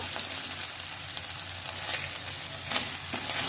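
A paste of white mustard and poppy seeds fries in a pan while being stirred, giving a close, continuous hissing sizzle with soft scraping strokes and a brief louder crackle near the end; no voices.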